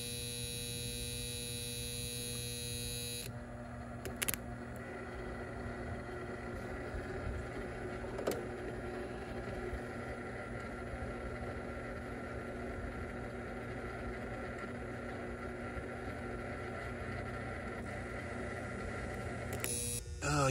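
A faulty contactor in a Goodman package HVAC unit hums with a steady, low electrical drone throughout, faint and constant, with a few small clicks and no speech.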